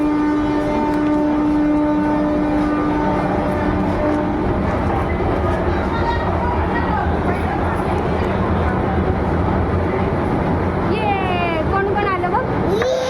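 Train noise on an Indian rail journey: a steady rumble with a long horn-like tone early on, later rising and falling whistling sweeps, continuous and fairly close under background voices.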